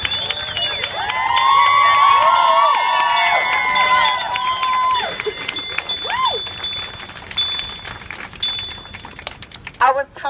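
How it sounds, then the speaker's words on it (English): A crowd cheers and whoops at an outdoor vigil for trans women of color in Portland, Oregon, with loud overlapping shouts and a sustained high whistle, then a quieter tail of scattered calls. "if we could please get a round of applause for the two organizations that helped bring this together"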